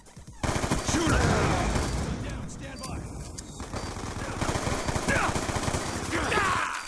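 Dense automatic gunfire and overlapping bursts in a Call of Duty Black Ops 2 multiplayer match, loud and continuous for several seconds, with a voice talking over the shooting.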